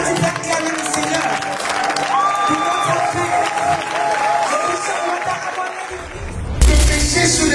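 A church congregation applauds and cheers to acclaim the Lord, loud sustained clapping with voices and shouts over it, a sung or spoken line rising through the middle, then the crowd noise shifts abruptly near the end.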